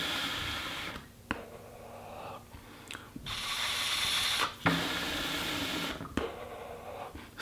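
Hits drawn from a small hookah bowl heated by three titanium cubes and loaded with fire-cured tobacco: several long, rushing, bubbling pulls broken by short pauses, close and fairly loud.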